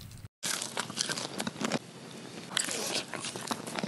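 Close, crisp crunching as a puffy, deep-fried battered shrimp snack is bitten and chewed, with repeated crackly bites over a few seconds.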